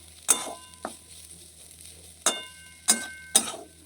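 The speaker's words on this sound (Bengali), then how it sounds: "বাঁধাকপি টপি কাটে রেখে দিলাম, ভাজা হয়ে আসছে" Chopped cabbage frying in a pan, with a low sizzle underneath a few sharp, separate scrapes and clinks of a spatula stirring against the metal.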